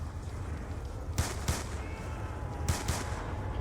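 Gunfire from a weapon in Call of Duty Nuketown Zombies: four sharp shots in two pairs, spaced over a few seconds, against a steady low game-ambience rumble.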